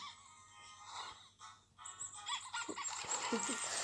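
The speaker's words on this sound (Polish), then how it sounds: "A ta kaczka jest śmieszna." Cartoonish duck quacking in the video game Macz Master, a run of honking, nasal calls over a low game hum, growing busier and louder in the second half.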